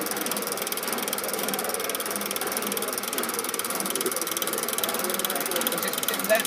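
A motor and transmission mechanism running at a steam museum, with a fast, steady mechanical ratcheting clatter that holds at a constant level throughout, with faint voices in the background.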